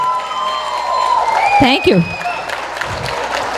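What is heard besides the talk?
audience applauding after a parai drum dance performance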